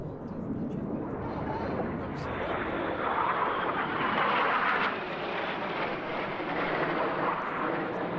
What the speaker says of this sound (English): The Red Arrows fly the Hawk T1A.